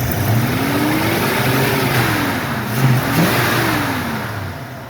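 A 1967 Ford Fairlane 500 Ranchero V8 with 8.8 rear end revs loudly and close during carburetor tuning, the pitch rising and falling in two smooth sweeps over a steady rumbling idle.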